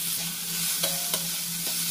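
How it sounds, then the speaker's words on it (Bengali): Chopped onion fries with garlic in a pan, a loud close sizzle with steady stirring and a few sharp spatula scrapes and clinks, plus a low hum beneath. "এবার এর সাথে এই পেঁয়াজটা একটু ভাজা ভাজা করে নিচ্ছি।"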